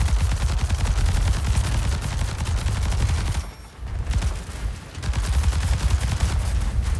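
Punisher guns in the War Robots mech game fire in continuous rapid bursts, a loud, dense rattle of shots that pauses briefly midway before resuming at full intensity.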